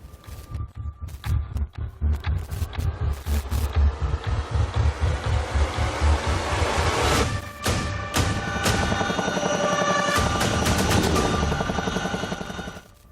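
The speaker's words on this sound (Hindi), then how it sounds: "चिनूक हेलीकॉप्टर्स दुनिया का सबसे बेहतरीन हेवी लिफ्ट हेलीकॉप्टर" A Chinook heavy-lift military helicopter of the Indian Air Force at the Republic Day Parade 2021 gives a loud, continuous rotor roar with rhythmic thumping that persists nearly the whole time, fading slightly at the end.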